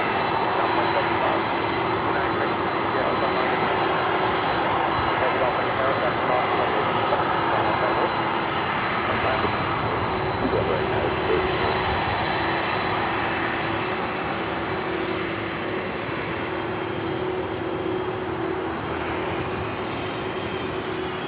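A Boeing 747 jet heading to Lima roars on departure from Los Angeles International Airport, a loud sustained engine rumble with a steady tonal whine, fading slightly toward the end.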